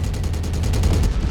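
Rapid, steady machine gun fire from a mech in MechWarrior, a loud continuous stream of closely spaced shots lasting just over a second.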